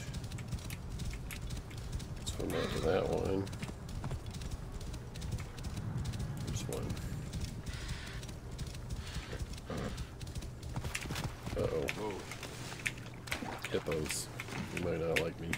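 Hooves clip-clop in a quick galloping rhythm as a horse runs through the Assassin's Creed Origins game world, fairly faint and steady, with a few brief game sounds scattered over it.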